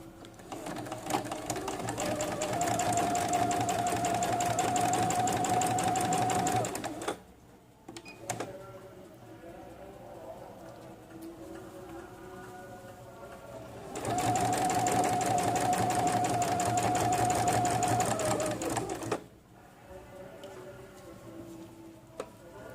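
A sewing machine stitches a kurta placket in two long, steady rattling bursts of several seconds each, separated by a quiet pause with light fabric handling and soft clicks.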